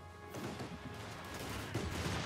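A Bofors gun firing in the game Company of Heroes 2 amid battle: a dense, faint fusillade of rapid shots and crashes blending into constant background combat noise.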